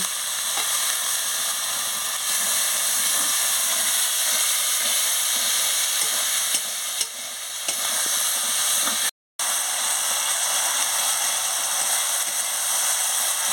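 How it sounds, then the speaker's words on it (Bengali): Chili powder masala frying in a pan with a splash of water, a loud, steady hissing sizzle lasting throughout with a brief cut near the end. "সামান্য একটু জল দিয়ে দিচ্ছি দিয়ে মশলাটাকে ভালো করে ভেজে নিচ্ছি"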